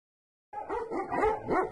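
A purebred shepherd dog barks and yips in a short burst after a moment of silence, several quick close barks with a slightly whimpering edge.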